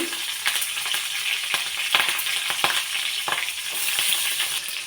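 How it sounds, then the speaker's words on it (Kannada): Cumin, curry leaves and green chillies crackling in hot oil, a bright continuous sizzle with sharp pops and spatters throughout, loud and close. "ಇದಕ್ಕೆ ಎಣ್ಣೆ ಕಾದಿದೆಯಲ್ಲ ಇದಕ್ಕೆ ಜೀರಿಗೆ ಹಾಕ್ಕೊಳ್ಳೋಣ ಆಮೇಲೆ ಕರಿಬೇವು ಮೆಣಸಿನ್ಕಾಯಿ"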